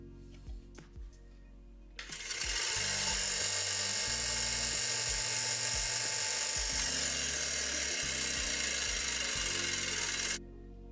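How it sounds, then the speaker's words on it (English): A bench grinder's wire wheel scrubs rust from an old chisel, starting with a loud rise into a steady harsh whirring hiss that runs for about eight seconds with scraping variations, then cuts off abruptly. "So I tested out the wire wheel with this old footprint chisel. I just wanted to remove the rust"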